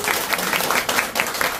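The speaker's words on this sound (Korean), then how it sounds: "저기 박수 한번 주세요." An audience claps for group leaders back from a month of travel in Europe, a short burst of dense, steady indoor applause with no pauses.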